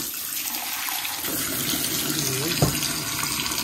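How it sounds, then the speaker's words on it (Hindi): A kitchen tap gushes hard into a metal tea pot at the sink, a loud continuous rush of water with a brief knock or clatter near the end. "बहुत तेज पानी खुल गया।"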